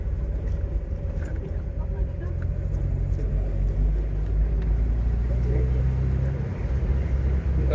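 A 1976 Toyota Corona RT100 cruises along with a steady low engine and road rumble from inside the cabin, smooth and continuous, while people chat over it.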